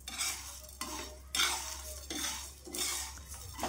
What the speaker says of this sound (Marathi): बघू शकता आपण बिना तेलाचाच मसाला भाजत आहोत, एकदम सुगंध येईपर्यंत।